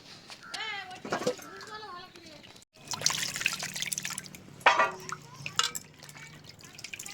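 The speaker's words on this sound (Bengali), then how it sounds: "ভালোভাবে ধুয়ে পরিষ্কার করে নিচ্ছি" Peeled giant taro pieces are washed in water, with splashing, trickling and dripping that get louder in the second half, while a voice talks over the first few seconds.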